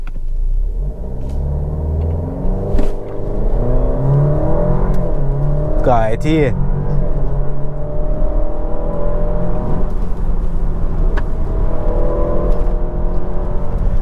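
An Alfa Romeo Giulia Q4 Competizione with all-wheel drive and a ZF 8-speed automatic accelerates hard, its engine rising in a loud, close, rumbling revving run from inside the cabin, while occupants talk over it.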